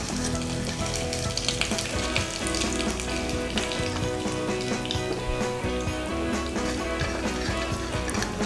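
Whole spices such as bay leaf, cinnamon, cloves, cardamom and cumin sizzle in hot oil while frying for a hotel-style vegetable kurma, a steady dense crackle throughout, close and loud with no talking.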